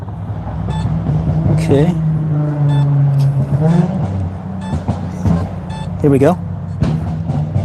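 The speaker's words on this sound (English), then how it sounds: "there's a car behind me making a lot of noise" A car drives by behind a person metal detecting outdoors, a steady loud engine rumble running under their talk throughout.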